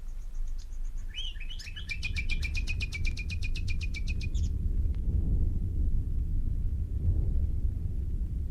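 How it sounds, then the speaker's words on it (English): Nightingales singing before dawn, a rapid repeated trill of bright notes near at hand for a few seconds, followed by a low, steady rumbling outdoor background with no song. "we heard the nightingales."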